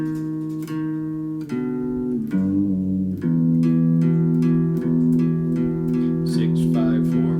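Guitar picks out a rhythm with clear plucked bass notes and strummed chords in a steady, evenly paced pattern, played alone and up close.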